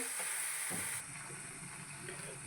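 Onion and tomato frying in a pan for a village-style country chicken kurma, a soft, fairly quiet sizzle that eases down after a second, ending in a sudden loud knock.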